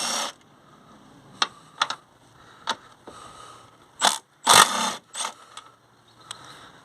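Top bolts on a Hyundai i30 front shock strut being loosened with a tool, a series of short metallic clicks and ratcheting bursts, some louder, separated by quiet gaps.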